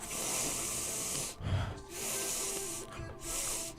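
Someone imitates sniffing with three long, breathy, hissing inhales separated by short pauses, close to the mic.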